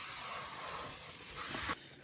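Insect repellent spray hisses continuously from an aerosol can outdoors in swampy snake country, a steady close spray lasting about two seconds before cutting off abruptly.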